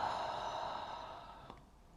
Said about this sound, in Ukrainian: Зробіть глибокий вдих та видих.